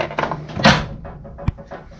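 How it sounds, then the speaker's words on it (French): A drawer of a workshop tool cabinet holding wrenches and screwdrivers slides open with rattling metal, a dull thump midway and a sharp click near the end, recorded close. "tiroir suivant."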